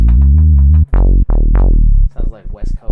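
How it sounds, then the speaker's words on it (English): An R&B-style synth bass line from a VST plugin plays a series of deep, sustained notes, first a quick run of short repeated tones and then longer, sliding notes, loud and alone with no talk. "this is my R&B type bass line here"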